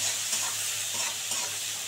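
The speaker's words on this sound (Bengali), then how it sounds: "একটু পেঁয়াজটা ভালো করে ভেজে নেব।" Onion frying in a pan for a fish-head moong dal, a dense continuous sizzle with brisk spoon stirring scrapes throughout, close and fairly loud, no talking.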